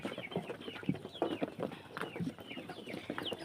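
Ducks and chickens at feeding time, a steady stream of clucking and soft fowl calls close by, with no talking.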